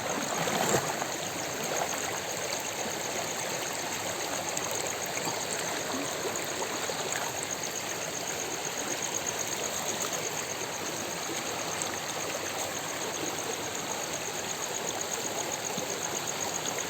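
A Konkan stream flows steadily and evenly, a continuous close wash of running water with no break and no voices for its whole length.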